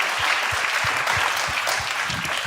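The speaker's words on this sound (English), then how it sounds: "I think that deserves a round of applause." Audience at the Global Solutions Summit 2023 applauds award winners with a full, continuous roar of clapping, dense and even throughout, with faint low thumps underneath.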